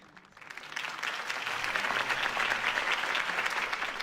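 Crowd applause in a Batman video game swells from a quiet start into steady, dense clapping that carries on loudly to the end.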